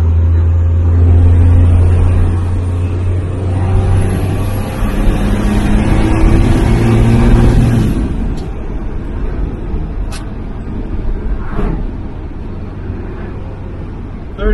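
A Cummins diesel in a Sweptline pickup revs up loud and close to around 2,000 RPM with a deep, steady roar, then drops back, its low rumble continuing after the rev fades.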